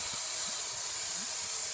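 Steaks frying in a pan give off a loud, steady hiss of sizzling fat that fills the whole short stretch, with no speech over it.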